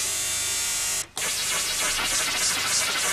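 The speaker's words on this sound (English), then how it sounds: "Early synthesizers had a separate oscillator that generated random noise" Random noise from a synthesizer's noise oscillator, a loud steady broadband hiss that cuts out briefly near one second and then resumes with a slightly shifting, rougher texture.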